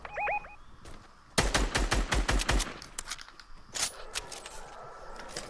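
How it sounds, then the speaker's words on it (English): A rapid burst of automatic gunfire crackles during a Fortnite match, a dozen or so close, sharp shots in quick succession, followed by a single louder crack and quieter ambient noise. "They're shooting."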